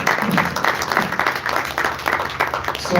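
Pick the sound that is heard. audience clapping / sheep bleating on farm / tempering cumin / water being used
audience clapping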